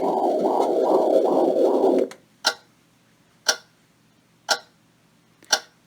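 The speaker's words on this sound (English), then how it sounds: "Clock. I wouldn't be able to sleep with this." A portable white noise machine plays a clock setting: after a fading wavering hum, four loud, crisp ticks come at an even one-second beat over near silence.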